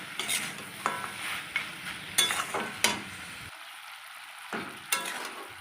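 Mixed vegetables with potato and lentil dumplings fry and get stirred in a pan, with close scraping strokes at a steady pace over a continuous sizzle.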